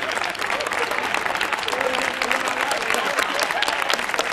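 Studio audience applauding on a 1982 Spanish television variety show, a dense, steady wash of many hands clapping at full volume for about four seconds, with a few voices mixed in.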